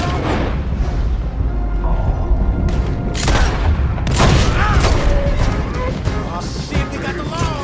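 A loud gunfight during a train robbery in the Western video game Red Dead Redemption 2: continuous shots and booming blasts over the rumble of a moving train, with shouting voices mixed in throughout.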